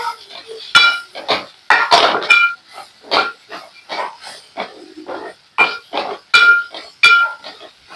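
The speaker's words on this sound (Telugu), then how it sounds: "ఇప్పుడు ఒకసారి కలుపుకుందామండి" Spoon clinking and scraping against a metal pot as spices, turmeric, coriander powder and chicken masala are stirred into a goat blood curry, giving irregular close clinks and scrapes in bursts.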